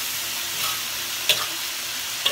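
Long beans stir-fry with soy sauce in a pan, giving a steady loud hissing sizzle with two brief sharp clinks of a utensil against the pan, no talking.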